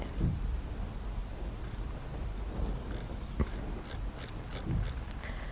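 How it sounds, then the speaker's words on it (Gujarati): Steady, fairly heavy rain hisses across the whole stretch in Ghoghamba, Panchmahal, Gujarat, with a few brief louder patters and low rumbles, no voices. "છેલ્લા ત્રણ કલાકથી અવિરત વરસાદ વરસી રહ્યો છે"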